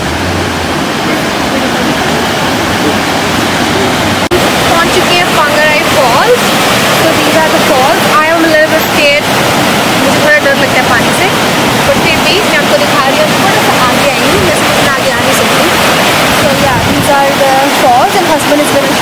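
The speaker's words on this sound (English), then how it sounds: "पहुंच गए हैं फॉल्स पे." A waterfall roars loudly and continuously at close range, a dense steady rush with no pauses, while people talk over it.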